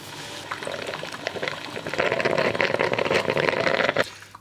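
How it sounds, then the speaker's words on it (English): Melitta EPOS pour-over coffee robot brewing, with a steady rush of hot water pouring and steaming through the cone under a loud motor hum, building in intensity before cutting off abruptly near the end. "There was both a loud motor and then the pock of kind of a steamy brew."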